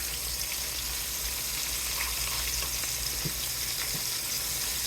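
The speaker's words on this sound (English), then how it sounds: "I like to fry it on thin grease" Cubed steak frying in a thin layer of grease, a steady close sizzle with faint pops and crackles throughout, no talking.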